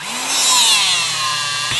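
A Benner Nawman DC 20WH cordless rebar cutter shears through a steel bar in one steady, loud whine lasting under two seconds, close up and with no talking.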